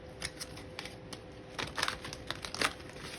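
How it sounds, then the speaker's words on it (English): A Light Seers Tarot card deck is shuffled with some difficulty, giving a string of soft, irregular riffling clicks and papery flutters, close and fairly quiet, without speech. "This deck is hard for me to shuffle, so ignore my bad shuffling skills."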